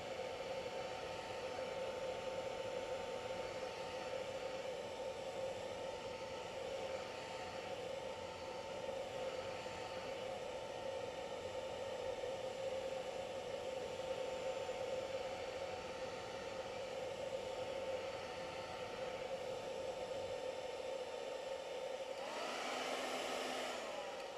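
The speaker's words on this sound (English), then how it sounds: "first I want to blow dry this again" A hair dryer blows continuously at a steady, even roar to dry a painted base, with no talking and only a brief change in tone at the very end.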